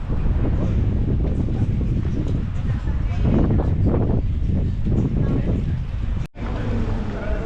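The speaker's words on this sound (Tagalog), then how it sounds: "malakas kasi ang hangin" Strong wind buffets the microphone with a heavy, continuous rumble while people talk underneath, in Saint-Tropez in the south of France.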